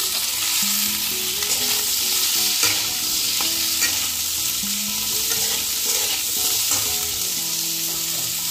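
Kohlrabi sizzles loudly in a pan as a spoon scrapes and stirs at an uneven rhythm, continuous and close, with nobody speaking.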